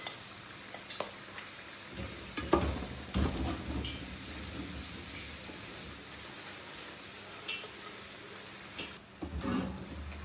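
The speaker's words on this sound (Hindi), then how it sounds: "इसको अभी हम लोग निकालते हैं और इस ऑयल में डालते हैं समोसे और रोल्स" Samosas and rolls frying in hot oil while hosting an iftar meal, a steady dense crackle with a few louder bursts of bubbling, close and continuous with no talking.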